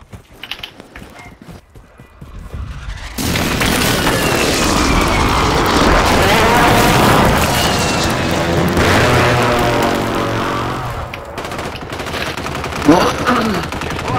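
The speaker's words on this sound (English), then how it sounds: "Friendly precision airstrike inbound" A precision airstrike in Call of Duty arrives after a short quiet lead-in, with loud sustained roaring, mechanical clatter and bursts of gunfire and explosions rolling on for several seconds, then easing as a faint voice comes in near the end.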